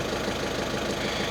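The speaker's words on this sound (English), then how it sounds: "the car is running, getting up to temperature" A 1.6 TDI diesel car engine idles steadily while warming up, with a continuous loud rumble and a rhythmic low diesel knock, heard close with no talk.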